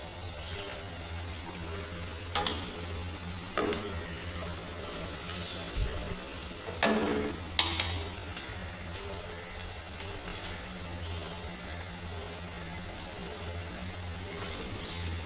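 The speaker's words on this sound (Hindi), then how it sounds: "और बस यहाँ मैंने 1 कप ऑयल में जो है प्याज को फ्राई किया" Chopped onions frying in a cup of oil in a home kitchen, a steady sizzling hiss that runs throughout with a few sharper pops and crackles, close by and with no talking.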